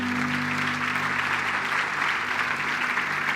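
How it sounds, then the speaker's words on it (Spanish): A church congregation applauds the Lord in a steady, dense wash of clapping that holds evenly throughout, with a low sustained hum underneath. "Dale un aplauso al Señor."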